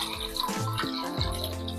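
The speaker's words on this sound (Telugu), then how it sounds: "ఇందులో కొంచెం వాటర్ పోసుకుందాం" Water pours steadily into a pot for tomato soup, a continuous splashing stream with a few clinks of metal, close by and fairly quiet.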